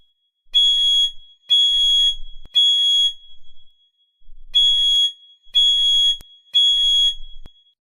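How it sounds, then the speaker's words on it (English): Smoke detectors in an animated cartoon go off with shrill, high electronic beeping in two groups of three evenly spaced blasts, loud and clear, separated by a short silence and a few faint clicks. "turn off the smoke detectors so that we can get back to sleep"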